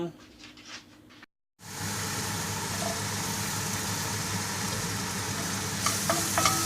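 Onion for a Goan cabbage foogath fries in a pan with a loud, continuous close sizzle. It starts after a brief voice and a short silent gap, and a few faint clinks come near the end.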